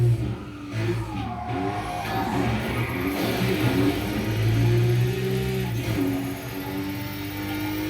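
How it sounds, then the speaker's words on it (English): A supercharged car engine in the Burnout Paradise video game roars steadily and loud, with a high supercharger whine riding over the engine note as it revs and holds speed throughout. "The supercharger sound is louder than the car."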